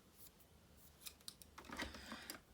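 An old pair of scissors snipping through a glued card, a few quiet crisp cuts up close, growing busier toward the end in an otherwise quiet room.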